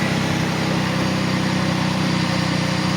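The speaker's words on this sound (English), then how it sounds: "That's a cold start, folks." Steady, loud idle of a 1990 Ford Taurus SHO engine just after a cold start on a cold morning, an even rapid mechanical hum with no talking.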